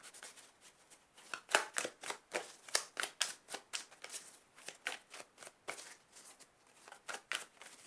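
Oracle cards are shuffled by hand in a rapid run of soft, papery riffles and slaps, close and fairly quiet, in irregular bursts with brief pauses and no voice.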